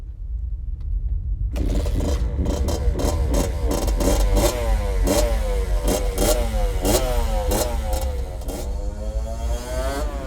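A Kawasaki KX60 dirt bike engine revs hard and close in a small workshop. It rises sharply from silence into a loud, buzzing whine that climbs and falls in repeated throttle blips.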